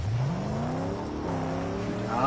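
A car engine in the video game Mad Max revs with a rising, whining tone that climbs and dips, loud and close, with someone speaking over it.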